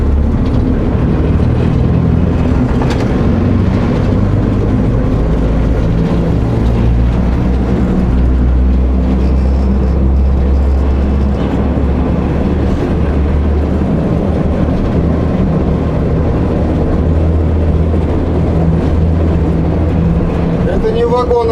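An old industrial locomotive on the Magnezit plant railway in Satka rumbles and rattles loudly as it gets under way, a heavy continuous low drone with clanking throughout.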